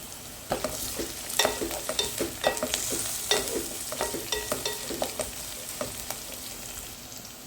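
Crushed ginger and garlic fry in a pan for a fish curry, making a soft sizzle. A quick series of spatula scrapes and taps sits over it, and no voices are heard.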